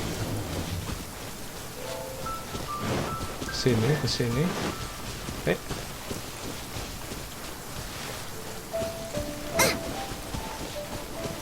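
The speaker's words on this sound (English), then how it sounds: "Oh, I don't like the rain." Rain falls in the game Genshin Impact, a steady, dense hiss that runs throughout, with scattered game chimes and effects over it and a person speaking briefly.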